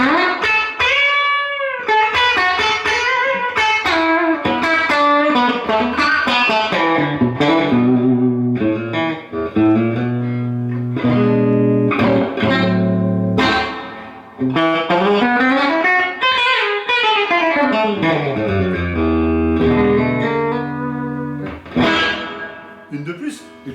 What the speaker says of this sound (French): c'est la reverb qui est importante dans le blues.